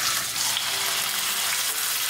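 Steak sizzles in olive oil in a hot pan, a dense, steady frying hiss that sounds close and constant throughout, with no talk.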